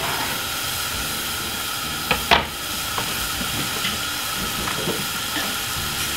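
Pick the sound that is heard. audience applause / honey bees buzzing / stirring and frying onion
stirring and frying onion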